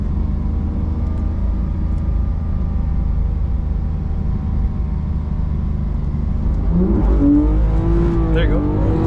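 A 2024 G82 BMW M4 Competition xDrive drifting on a skid pad, its engine holding a steady, loud, sustained drone from inside the cabin, with a brief squeal of tires and a surge of revs near the end and occasional talk.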